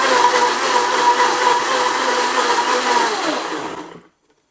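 A kitchen blender runs steadily for about four seconds, whirring loud and constant as it purées young jackfruit curry ingredients for Indonesian gulai nangka, then cuts off abruptly into silence.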